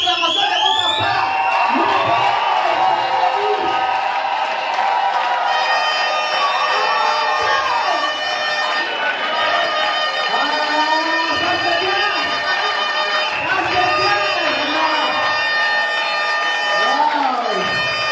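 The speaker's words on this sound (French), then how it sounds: "je voudrais entendre le vive acclamation de votre part" Crowd acclamation and cheering at an Alliance démocratique political gathering: sustained loud shouting and whistling from many people, continuous throughout with a voice over it.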